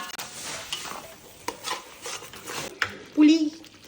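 A ground paste for fish sambal sautés in a pan, heard as soft stirring scrapes and light clinks of a utensil against the pan. The sound comes in short irregular strokes at close range, with a low frying hiss underneath.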